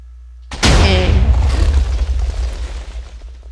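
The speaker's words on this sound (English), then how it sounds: "and this is a TNT cannon" A TNT cannon in the video game Minecraft goes off in a single loud, close explosion after a brief quiet moment, its deep boom rolling into a long, fading rumble.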